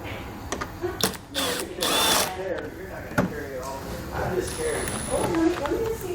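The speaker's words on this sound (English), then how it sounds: "We're going to have to take a T30 bit and remove both of these." Power driver with a T30 Torx bit backing out fasteners on a vehicle's front end, heard as bursts of whirring and ratcheting clicks with intermittent mechanical rattles, fairly close.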